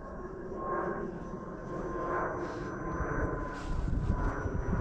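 Pocket Rocket RC model plane on a 4S battery, an electric airframe passing overhead with a steady whining motor hum that swells and fades slightly as it flies by outdoors.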